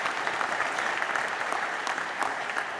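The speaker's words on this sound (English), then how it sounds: "so I think you should give Shane a round of applause as well." An audience at a Castletown Geoghegan CCÉ traditional Irish music event claps in steady, dense applause that fills the whole stretch.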